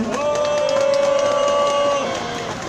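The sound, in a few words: crowd applause at a rally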